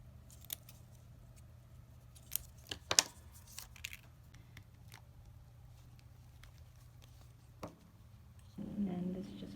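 Scissors snipping paper for a small bat shape in a craft project, quiet scattered crisp cuts and rustles close by with a muffled thump near the end.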